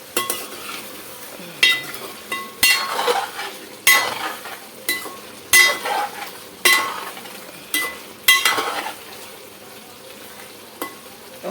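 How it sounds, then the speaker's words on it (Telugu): Chicken biryani masala simmering in a pot while a spoon stirs it, giving repeated scraping and clinking strokes every second or so over a soft, steady sizzle, close by and with no talking. "చక్కగా మగ్గుతుందన్నమాట."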